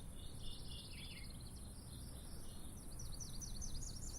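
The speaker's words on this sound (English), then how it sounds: "The birds chirping in the background." Crickets and birds in Flight Simulator 2024 ambience: a steady high cricket trill runs throughout, with faint warbling bird chirps coming and going above a low rumbling background, quiet and distant, with no talking.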